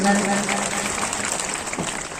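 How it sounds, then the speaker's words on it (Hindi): Loud crowd applause rings out at an Adivasi community stage gathering in Sendhwa, a dense, continuous roar of clapping mixed with other stage sound and some voices. "एक बार जोरदार तालियों की गड़गड़ाहट से"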